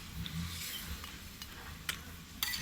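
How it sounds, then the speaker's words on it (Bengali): A cooking pot boiling and sizzling steadily just after water has been added, a continuous bubbling hiss with a few faint clinks, set in a roadside home kitchen. "ফুটছে।"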